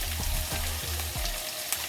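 Saltfish for Jamaican ackee and saltfish frying in a hot pan over a high flame, giving a close, steady sizzling hiss with faint crackles under a low, pulsing hum.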